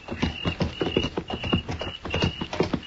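Horses' hooves clip-clop at a steady walking rhythm as riders move straight ahead, a close and continuous run of hoof strikes on a Western town street.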